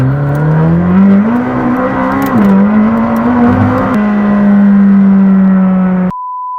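McLaren 750S sports car engine revving loudly up close, a sustained V8 drone that climbs, dips briefly, then holds a steady high pitch before cutting off abruptly.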